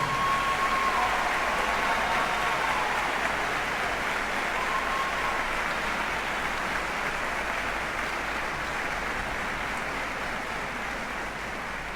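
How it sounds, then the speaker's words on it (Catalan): Audience applause for the Gayano Women's Band at the 2016 Valencia provincial band contest at the Palau: steady, dense clapping from a large crowd, even and sustained, slowly easing in volume. "Un aplaudiment per a elles."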